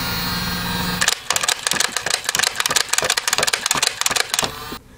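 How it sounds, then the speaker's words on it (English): A stock Nerf Barricade blaster fires in a rapid burst of sharp mechanical clacks over a steady motor whir, loud and close, after a brief spin-up, with no talk. "I will first put a video of me firing it stock up right now."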